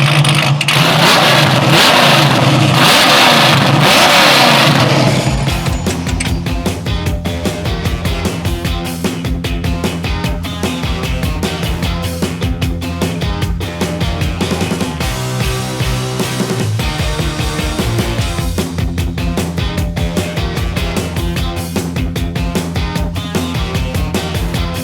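Sand car with a tube-chassis truck build, revved hard through a loud exhaust: a few seconds of rough engine noise, then a long run of sharp, aggressive blips and sustained high revs, close and dominant with no talk.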